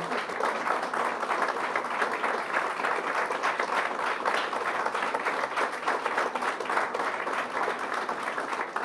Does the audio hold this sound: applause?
yes